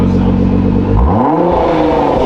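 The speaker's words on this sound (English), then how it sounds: "I'm gonna give it a few revs for you guys, show you how it" A 2020 Nissan GT-R's twin-turbo VR38 engine, fitted with AMS catless downpipes and carbon fiber intakes, idles roughly and then climbs into one loud, rising rev that holds near and raspy.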